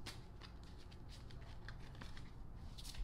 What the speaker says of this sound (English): All right, they're telling me to shuffle.